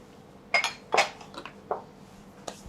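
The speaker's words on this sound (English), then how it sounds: "So now I have the saucepan on the induction stove" A saucepan is set down on an induction stove while a chocolate orange mud cake is being made, giving a few light metallic clinks and knocks close by, spread over a couple of seconds with quiet gaps between them.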